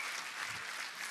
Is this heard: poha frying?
no